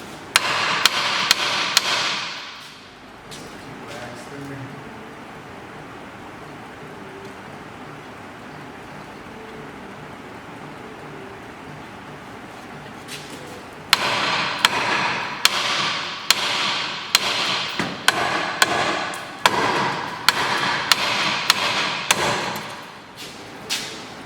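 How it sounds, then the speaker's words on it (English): A hammer strikes a ball joint to separate it during a Mazda 6 transmission swap: sharp metallic blows in bursts at the start and then rapid repeated strikes over a long stretch later, close and loud. "I just use a hammer for it."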